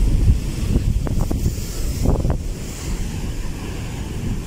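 Surf and gusting wind on a typhoon-battered beach, a steady broadband roar of breaking waves with wind buffeting the microphone throughout, close and fairly loud, with no talking.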